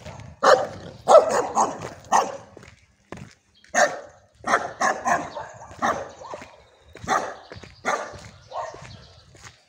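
A dog barks again and again in short, loud bursts with brief pauses, close by, on Lesnaya Street in Birobidzhan among old houses.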